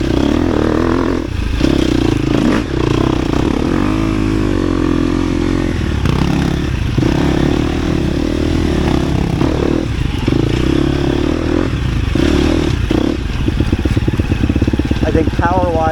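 A 250 or 350 motorcycle engine roars loudly and continuously while being ridden, rising and falling with throttle changes, with wind rush and occasional rattling or scraping clatter mixed in.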